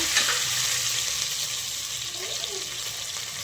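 Curry leaves, cumin and sesame seeds crackle and sizzle in hot oil for a dhokla tempering, a close, steady hiss with small pops running throughout.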